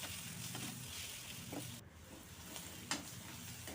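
A spicy country egg omelette with ground pepper is stirred in a hot pan, a dense close sizzle broken by a couple of sharp spatula scrapes and knocks, with no speech.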